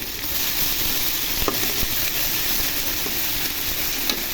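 Onions with ginger-garlic paste sizzle steadily in a hot frying pan, a constant close hiss of frying broken by a few light knocks and scrapes of a spatula stirring, no voices.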